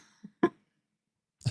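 A man coughs sharply once after a faint throat sound, then a second cough follows about a second later after a silent gap, close and fairly quiet, with no talking.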